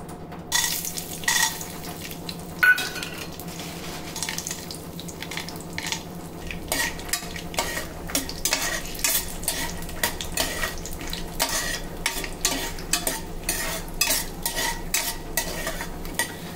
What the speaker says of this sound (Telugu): వీటిని ఒక 2 నిమిషస్ కలుపుకుంటూ దోరగా వేయించుకోండి।